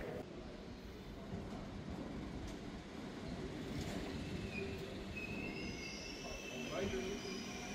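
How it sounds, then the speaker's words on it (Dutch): A train at Hengelo station rolls along steadily with a broad rumble, and high wheel squeals rise near the end amid station hubbub. "met deze trein ga ik richting Enschede"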